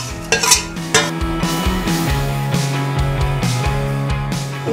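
A spoon stirs vermicelli into hot milk in a metal pot for kheer, with repeated close scraping and clinking strokes against the pan over a steady background, no talk.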